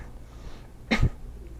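One short, sharp inward cough is demonstrated to clear the throat: a single close burst of air and throat friction over a low, quiet background.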